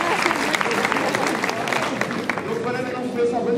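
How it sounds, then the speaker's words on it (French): Warm applause at a French-language conference-debate for visiting guests from Liège, a steady dense patter of many hands clapping from a seated audience, sustained throughout at moderate volume. "je vais vous demander un peu d'applaudissements pour nos invités de Liège"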